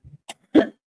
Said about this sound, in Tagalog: Inuubo na kasi ako.